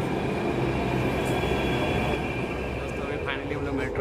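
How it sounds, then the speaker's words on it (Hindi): A Delhi metro train pulls into a station, its steady low rumble and rail hum filling the platform at close range, with people talking faintly in the background. "मेट्रो आ रही है, अभी हम लोग इसी पर बैठ के जाएंगे"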